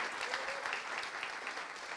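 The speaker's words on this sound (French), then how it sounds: "on peut applaudir les baptisés quand même" A church congregation applauds newly baptized members at a service, a dense, even wash of clapping heard fairly quietly from a distance, with no voices on top.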